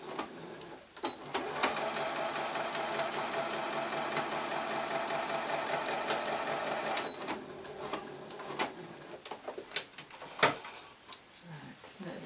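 A sewing machine runs steadily for about six seconds, a rapid even stitching drone through fabric while a small cloth chicken toy is made, then stops, followed by lighter handling clicks and bumps.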